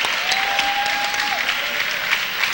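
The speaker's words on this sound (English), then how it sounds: "Brittany Allen gets a big hand from the crowd" A crowd in a gym applauds steadily as a junior player is introduced before a 2005 CIF Division V NorCal semifinal girls' basketball game, with a sustained whistle-like tone sounding briefly partway through.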